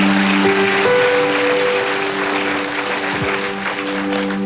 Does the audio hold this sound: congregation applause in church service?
yes